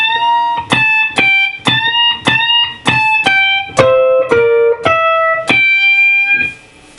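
Slow electric guitar blues lick, a run of distinct plucked notes and bends with sustained overdriven tone, evenly paced, close and clear with no talking.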